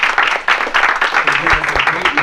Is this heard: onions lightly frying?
no